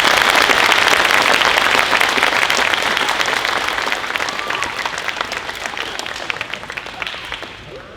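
Loud applause from a school concert audience welcoming a 6th grade beginning band, dense clapping that fades gradually over several seconds.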